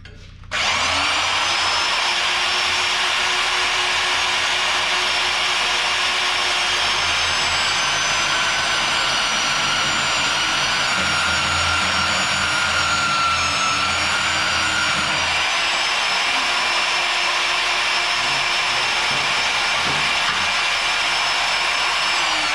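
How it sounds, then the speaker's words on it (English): A bandsaw cuts along the machining line on a flat face of a part for a Cummins-swapped 1955 Chevy radiator support. A steady, loud motor whine with a high singing tone runs unbroken throughout, with no voices. "I'm gonna use my bandsaw and I'm basically just gonna cut along the machining line that's made there"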